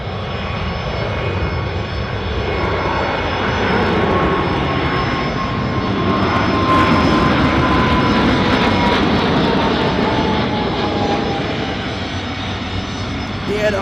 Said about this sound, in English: We have the 777 now. Taking off on runway